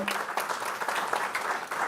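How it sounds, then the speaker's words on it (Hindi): Audience applause at a birthday celebration event for Narendra Modi, steady moderately distant clapping from a crowd filling the whole short stretch without pause. "उनके लिए आप जोरदार तालियां बजाएं"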